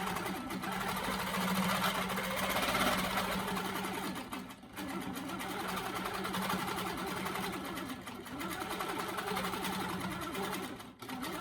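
A longarm quilting machine stitches pebbles and swirls through a quilt top, a steady mid-pitched motor hum with rapid needle chatter running continuously, dipping briefly as the stitching pauses and then resumes.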